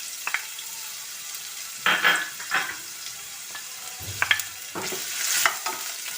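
Crushed garlic, ginger and green chillies fry in a pan with a soft, steady sizzle, punctuated by a few brief stirring scrapes and clinks at close range, with no talking.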